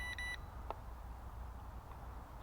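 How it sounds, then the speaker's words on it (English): A short electronic beep from a SYMA X5C toy drone sounds twice in quick succession at the start, faint against a low background hum. "We had an odd beep as it went past"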